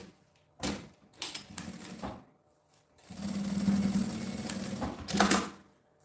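A sewing machine stitches fabric lining for a school bag in short bursts, then runs steadily for about two seconds with a rhythmic mechanical whir, mixed with clicks and handling of fabric at close range.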